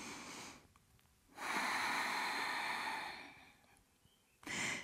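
During a yoga exercise, one long, deep breath is drawn in and released through the nose, a soft airy rush that holds steady for a couple of seconds, followed by another breath at the end, with no talking.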